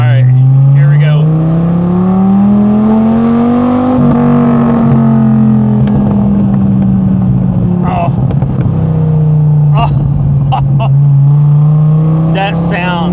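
Dodge Viper fitted with a Belanger aftermarket exhaust revving loudly and close, with a deep engine note that swells and eases while excited voices talk over it.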